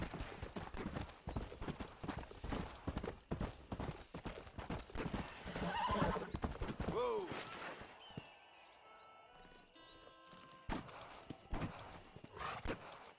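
A horse in the Red Dead Redemption video game gallops with a rapid, steady clip-clop of hooves, then whinnies once in a rising, wavering neigh. Quieter hoofbeats resume near the end, with a faint voice briefly audible.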